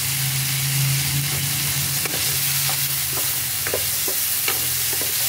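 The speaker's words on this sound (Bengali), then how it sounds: "মশলাটা ভাজা ভাজা হয়ে আসছে" Spice paste with green chillies fries in a pan, making a steady close sizzle, with occasional scraping taps as it is stirred.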